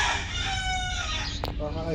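A rooster crows loudly nearby in one long drawn-out call, followed by a shorter second crow, with faint background noise.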